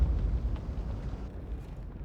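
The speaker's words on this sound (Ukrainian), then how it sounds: "Робимо постріл." A deep, rumbling artillery shell explosion in World of Tanks booms and slowly decays into a low roar, heavy and loud at the start.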